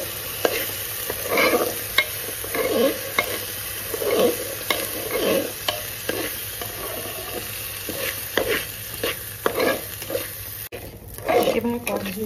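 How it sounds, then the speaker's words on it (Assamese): Bora sticky rice is stirred and fried in hot ghee over a low flame, with repeated scraping and rustling strokes and a soft sizzle, while a voice talks alongside. "চাউলখিনি এনেকৈ গৰম ঘিউখিনিৰ ওপৰত ভাজি অকণমান"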